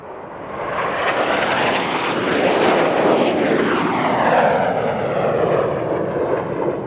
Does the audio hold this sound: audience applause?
no